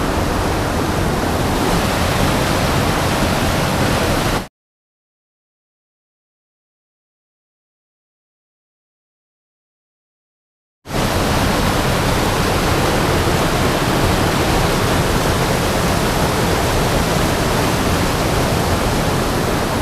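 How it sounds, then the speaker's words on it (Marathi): Loud, dense roar of rushing floodwater in a monsoon-swollen stream in Rajapur, Konkan, broken by a stretch of complete silence in the middle before the roar resumes. "याच्यापेक्षाही पाणी वाढतं पाण्याचा आवाज बघा"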